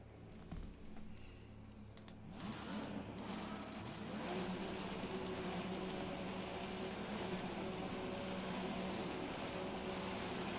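A Toyota Supra engine in the Rennsport racing game, in wet conditions, idling quietly then rising into a sustained, steady drone as the car accelerates and holds high revs, moderately loud with no talk.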